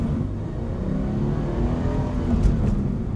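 A Toyota GR86 sports car engine revs up and holds a rising, whirring drone for a few seconds, loud and close, with no one speaking over it.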